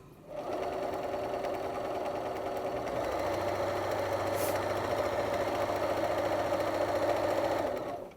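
A sewing machine runs steadily as it stitches through several fabric layers for a rice heating pad, a close, continuous whirring drone for about eight seconds that deepens partway through, starting and stopping cleanly with no talk.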